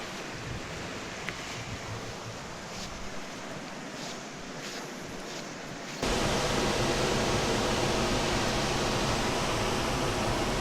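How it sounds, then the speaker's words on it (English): Lewis Falls, a waterfall in Tasmania, gives a constant broadband roar that jumps abruptly to a louder, closer rush partway through, steady and unbroken, with no voices. "we've just done a side trip on the way to Devils Cauldron to this spot called Lewis Falls"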